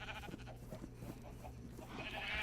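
Sheep bleating in the Minecraft video game, several short blocky game bleats repeating over a steady faint backdrop, fairly quiet, with no talk.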